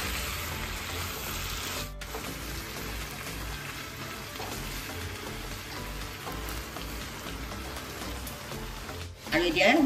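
Chicken frying in a pan with ground fried onions, a continuous rain-like hiss and crackle that holds steady throughout, with a brief louder stir-like scrape near the end.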